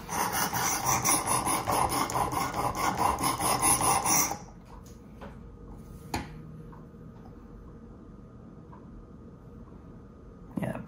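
A knife blade is ground on a Work Sharp Precision Adjust sharpener, a fast, rhythmic rasping of abrasive on steel for about four seconds, then stopping, followed by faint clicks and handling noises in a quiet room.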